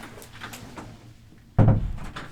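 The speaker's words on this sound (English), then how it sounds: "We're going to close the door." An indoor door swings shut with a single soft thud after a moment of quiet room noise.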